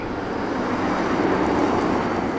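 A soft, steady whir of a Renault Zoe electric car cruising, a smooth broadband hum with a faint high whine, continuous and even throughout.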